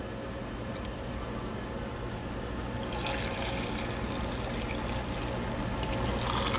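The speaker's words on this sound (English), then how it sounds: "I got a little cup to pour the vinegar in." Hot vinegar is poured from a small cup into a jar for pickling green tomatoes, a steady splashing gush that starts partway through and keeps running loudly to the end.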